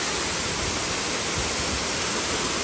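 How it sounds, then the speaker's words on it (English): A waterfall in the Old Town of Nice, France rushes in a loud, steady broadband wash of falling water, continuous and close, with no voices. "today we are listening to a waterfall here in Nice, France"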